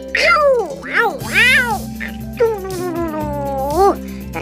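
A person imitating a cat with a series of rising-and-falling meows, several quick cries then a longer drawn-out one, loud and close over a low steady musical background.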